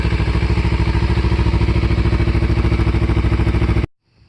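A 2014 Kawasaki Ninja 300 with a modified exhaust idles close by in a steady, loud, pulsing burble, then cuts off abruptly near the end into silence.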